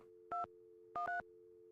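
Telephone keypad tones from the Nancy Drew game White Wolf of Icicle Creek sound over a steady dial tone: one short beep, then two quick beeps in succession, clean and close.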